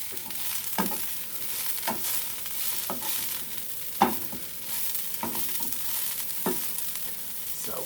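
Cream cheese and cheddar with a pinch of salt stirred together in a bowl: a spoon scrapes and thumps in steady strokes, close and clear with no talk.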